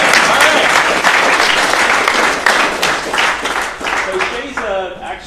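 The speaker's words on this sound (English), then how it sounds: "give him a round of applause" A tech meetup audience claps loudly as a speaker is introduced, dense applause that fades slightly, with voices over it near the end.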